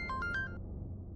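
A phone rings with a short electronic ringtone, a few bright melodic pulses over about half a second, then stops, leaving quiet room tone.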